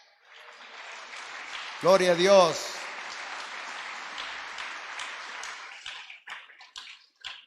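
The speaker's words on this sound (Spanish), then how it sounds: "a quien le damos un aplauso" A church congregation applauds during a sermon, a broad wash of clapping from many hands that runs for several seconds and thins into scattered claps, with a voice briefly calling out over it.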